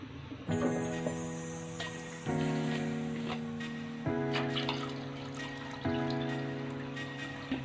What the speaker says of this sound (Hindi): अब हम इसमें पानी डालेंगे अपनी मर्ज़ी से, जितनी हमने बनानी है।